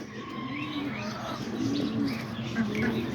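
Roller pigeons coo softly and repeatedly inside a backyard pigeon loft on a rainy day, low throaty calls overlapping at close range over a steady wash of rain and background noise.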